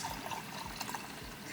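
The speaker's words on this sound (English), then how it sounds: "I'm gonna pour me a big glass." Cranberry wine, made from cranberries instead of grapes, is poured into a big glass, a faint continuous liquid trickle with soft glugging pulses.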